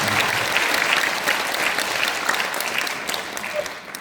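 A hall audience of guests at a peace music and talk concert gives warm applause, a loud, dense, continuous clapping that fades slightly toward the end.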